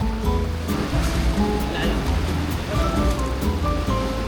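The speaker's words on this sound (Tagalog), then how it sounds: "Tumalakas na yung alon." Strong sea waves wash and roar continuously along the shore at Bracelet Bay near Swansea, close and loud, while people talk over the surf.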